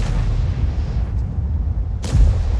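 A T92 tank gun fires in World of Tanks: one sharp, loud boom near the end, cutting through a steady low battle rumble.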